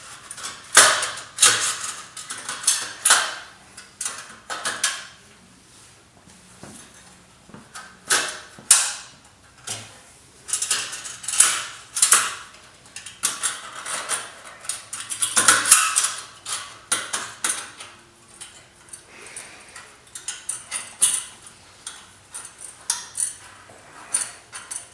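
Loose baffle clamps are worked on a 2015 Harley-Davidson Wide Glide's short shot exhaust, making repeated harsh metallic scrapes, clanks and creaks in irregular bursts up close, sounding almost like something breaking, with no talking.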